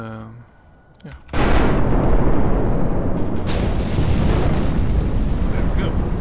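Hydra missiles fire and explode in Kerbal Space Program, a sudden loud roar bursting in after a quiet moment and rumbling on continuously to the end.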